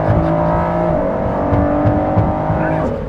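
A 2019 Ford GT supercar's engine, mounted directly behind the cabin with no insulation, roars loudly while accelerating, a steady, harmonically rich drone that shifts in pitch and is heard from inside the car.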